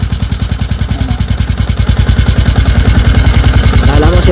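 A Sniper 150 V2 motorcycle engine runs with a loose internal part, making a loud, fast, regular rattling knock that pulses with every engine cycle and stays close and prominent throughout.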